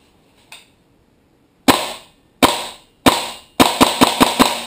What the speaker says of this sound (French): On va se faire un peu le test de tir.